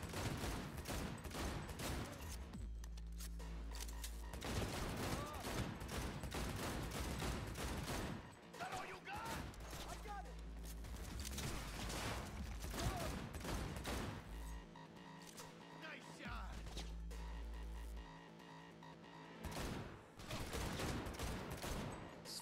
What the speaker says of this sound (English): The gunplay feels really, really solid.